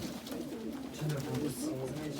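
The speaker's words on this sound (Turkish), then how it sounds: "ama güzel kuşlar var ha" Pigeons cooing close by in a coop, low throaty calls overlapping with someone talking in Turkish.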